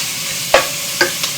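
Pork hitting a hot pan in a home kitchen, giving a few sharp sizzling bursts with short gaps of quiet hiss between them.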